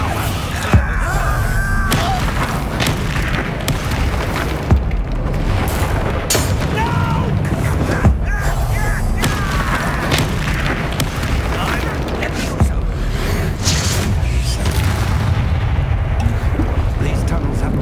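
Bombarda spell blasts in Hogwarts Legacy, repeated deep booms and crackling impacts over a dense rumbling combat din, loud and continuous, with voices calling out spells over them.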